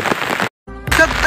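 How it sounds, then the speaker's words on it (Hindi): Heavy rain pours down in a village, a dense hiss that cuts out briefly midway before returning at full strength. "देख सकते हो कैसा बारिश हो रहा है भाई इतना।"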